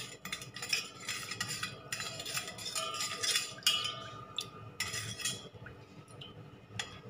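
A spoon clinks and scrapes against a bowl while lemon juice is stirred into a mixture, a run of quick metallic taps and rattles in bursts with short pauses, close and fairly quiet.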